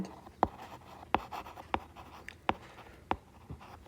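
A pen writes numbers on paper during a ninth-grade math lesson, producing six sharp, evenly spaced taps and scratches about every two-thirds of a second, close and clear against a quiet background.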